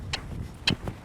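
A horse rider makes sharp tongue clucks to cue the horse to move faster, three quick dry clicks, one alone and then a close pair, with no talking.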